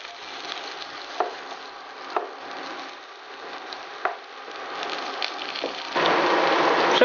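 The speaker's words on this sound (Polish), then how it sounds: "Wrzucamy plasterki kiełbasy i obsmażamy jakieś 5 minut." Sliced sausage frying in a small amount of hot oil in a pan gives a steady close sizzle with scattered pops and crackles, growing louder and denser near the end.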